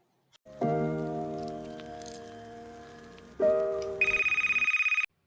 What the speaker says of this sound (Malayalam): റിച്ചു, നിന്റെ ഫോണോ?